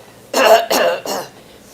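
A voice imitates a loud throat clearing: three harsh, forceful bursts in quick succession, close and alone, without words.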